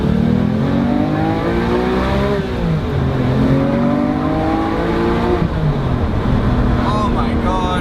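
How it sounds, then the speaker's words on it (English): A Porsche 911R engine revs hard and high, its harmonics rising and falling through repeated climbs and dips, loud and close throughout, with a voice briefly over it. "I'm gonna try revving it out because it revs so high"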